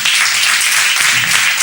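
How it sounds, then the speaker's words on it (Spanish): A crowd claps together in a short, loud burst of steady applause. "Un aplauso para estos dos galanes."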